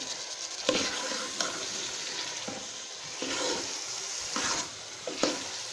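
Chana and maash lentils sizzle steadily while being roasted in a hot pan as a spoon scrapes and stirs them every second or so, close and fairly loud, with no talking.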